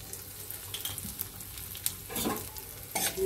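Bay leaf and asafoetida fry in a pan while being stirred, a soft sizzle with a couple of brief scraping strokes near the end, close up and fairly quiet.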